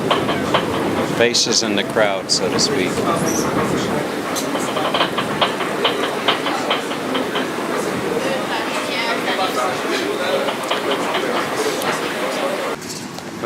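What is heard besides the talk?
Budapest metro train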